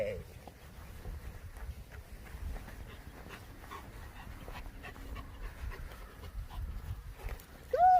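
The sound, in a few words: dog panting during leash training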